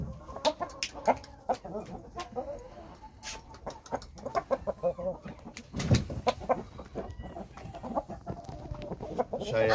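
An 8-month-old Shamo stag clucks in short, uneven bursts nearby, with other fowl sounds and someone speaking now and then.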